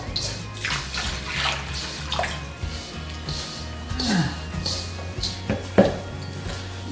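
Water poured into a bowl of bulgur for making kibbeh, a soft intermittent splashing and trickling with light clinks of dishes and utensils in a home kitchen, fairly quiet.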